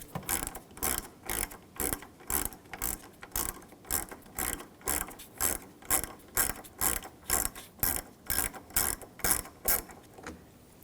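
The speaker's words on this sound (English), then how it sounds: "we're going to take this bolt out, use a 10mm socket" A ratchet with a 10mm socket clicks in quick repeated bursts while it backs out a bolt above the windshield washer reservoir of a 2011-2018 Volkswagen Jetta TDI wagon. The close, crisp ratcheting is evenly paced, with about twenty strokes.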